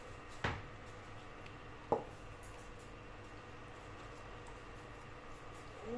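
A kitchen knife cuts through a fish head for cooking: two sharp, separate chops land on the board a second and a half apart, close and clear over a quiet room hum.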